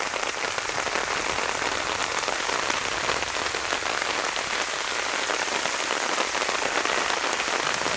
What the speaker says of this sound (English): I don't know if I've ever felt rain this heavy.